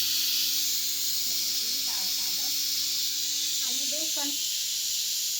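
A continuous high-pitched steam hiss runs throughout, like a pressure cooker whistling, with someone talking faintly underneath.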